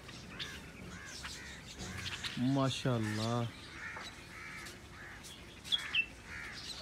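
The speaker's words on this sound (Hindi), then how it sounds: "इतनी ज़्यादा बुलबुल" A large flock of bulbuls chirps and calls together in steady high-pitched bursts, with a voice speaking over the birds part of the time.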